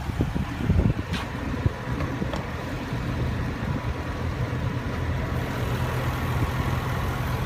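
A 2016 Range Rover Sport's supercharged 5-liter V8 idles with a steady, deep low rumble, close up, with a few light clicks near the start.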